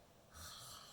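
A voice imitates a single snore while reading a children's story aloud, giving one short, breathy, rasping snort close to the microphone.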